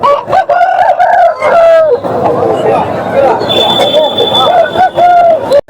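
At a village hen market in Kundarlapalli, a rooster crows loudly close by while hens cluck around it, and people talk over the birds.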